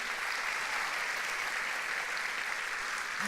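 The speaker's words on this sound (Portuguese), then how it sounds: "Você pode dar uma salva de palmas para Jesus?" Church congregation clapping in a dense, even burst of applause, steady and moderately loud for a few seconds with no voices over it.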